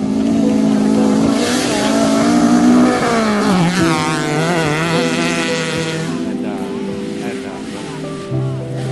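A Toyota Corolla DX rally car with a swapped 4A-G engine, replaced transmission and differential, built for sprint events, revs loudly and climbs through the gears in a close, roaring run, with talk mixed in underneath.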